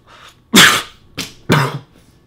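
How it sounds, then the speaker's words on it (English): A person sneezing, several short bursts of breath in quick succession, close and loud, the last two the strongest. "I gotta sneeze, so let's sneeze these off."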